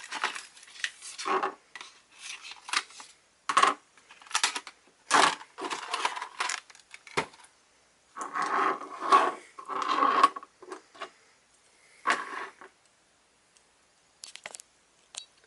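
Plastic packing tape being peeled and torn off the flaps of a Power Rangers Super Megaforce Legendary key pack, Mystic Force version, in close, irregular rips and crinkling bursts separated by short pauses, with no talking.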